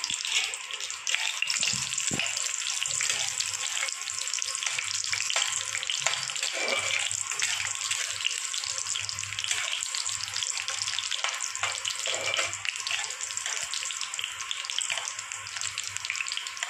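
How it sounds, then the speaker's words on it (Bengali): Dried red chillies fry in hot mustard oil in a wok, giving a steady bright sizzle throughout with a faint low hum beneath and occasional stirring clinks. "প্রথমে আমি শুকনো লঙ্কাটা ভেজে নেব।"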